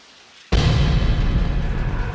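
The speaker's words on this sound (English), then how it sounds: "Can you hear that? Is it rain? It's the shower." A shower in the video game Deadly Premonition switches on abruptly after near silence, then streams as a loud, steady hiss of spraying water.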